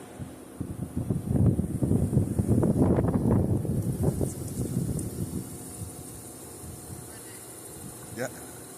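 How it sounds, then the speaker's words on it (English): Strong gusts of wind roar outdoors on a windy autumn day beside school traffic lights, building to a loud rumbling peak before easing back, with a voice speaking briefly over it. "It's windy out here."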